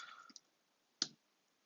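A few soft keyboard keystrokes on a computer, a brief flurry of light clicks followed by one sharper, isolated tap, close and quiet with no talk.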